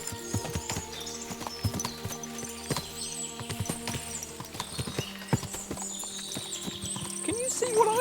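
Many hooves clip-clop steadily on hard ground, a whole herd close by, with a horse whinnying and faint voices mixed in.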